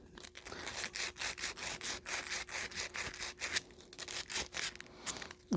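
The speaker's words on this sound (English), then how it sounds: "Also, you could roll the sandpaper like that." Copper pipe is scrubbed clean with sandpaper in a rapid run of short, rasping strokes, fairly close and on the quiet side, with brief pauses and no talking.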